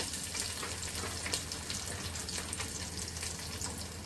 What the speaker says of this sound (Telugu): ఇప్పుడు ఉల్లిపాయ ముక్కలు వేస్తున్నాను.